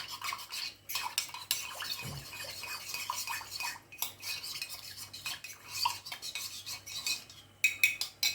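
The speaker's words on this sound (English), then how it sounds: "You're going to mix around." A utensil stirs braised sausages and gravy in a pan, giving steady scraping and clinking strokes that go on throughout and peak near the end, with no talking.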